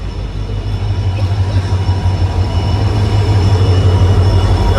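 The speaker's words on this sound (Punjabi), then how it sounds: "ਲਓ ਜੀ ਟ੍ਰੇਨ ਵੀ ਆ ਗਈ" A train pulls into a station in Punjab and keeps running with a steady loud rumble, low drone and faint wheel squeal throughout, with no talking.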